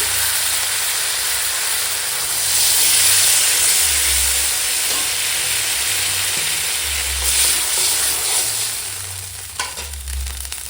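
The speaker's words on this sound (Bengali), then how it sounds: "এখন দিয়ে দেবো জল" Water hits a pan of sautéed vegetables, bursting into a loud, close hiss of steam and sizzling that swells, holds, then settles toward a gentler frying sound, with no talking.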